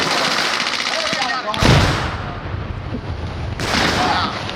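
Sustained gunfire from a D-Day battle reenactment field at LST 393, dense bursts of shots and rattling volleys running throughout, loud and close, with a heavier blast near the middle and another surge toward the end.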